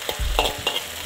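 Chicken leg meat being stir-fried in a hot wok, a few quick scraping stirs with sizzling oil, close and brief with no talking.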